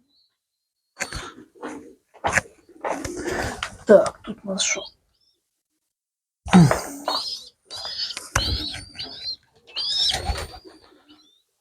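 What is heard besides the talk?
pigeons cooing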